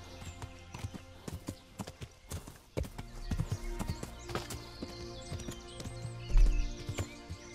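A horse gallops along a narrow path in the medieval game Kingdom Come: Deliverance, its hooves sounding a steady, fairly close clip-clop rhythm with occasional louder thuds, under game music and ambience, no talking.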